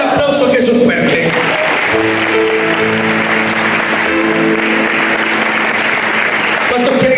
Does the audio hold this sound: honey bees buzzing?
no